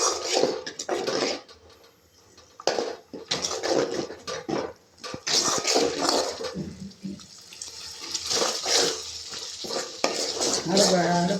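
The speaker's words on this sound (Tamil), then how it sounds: "அடுப்பை நல்லா ஹையில் வச்சு நல்லா சட்னி எண்ணெய் பிரிஞ்சு வர அளவுக்கு இப்படி நல்லா கிளறி விடணும்" Spicy Tamil kaara chutney frying over high heat in sesame oil, stirred in a pan with repeated scraping and clinking of a spoon against metal over a steady sizzle, close and fairly loud, with no talking.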